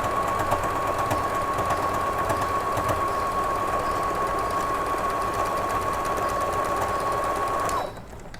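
Sewing machine stitching knit fabric scraps into a doll comforter, a loud steady close whirring hum for about eight seconds that then stops abruptly.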